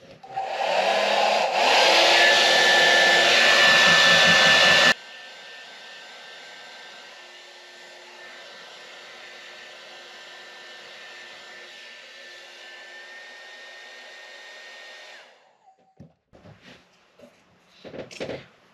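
A hair dryer heats glue on a Martin D-45 guitar neck joint, roaring loudly for several seconds, then blowing at a lower, steady whine before switching off, followed by a few handling knocks.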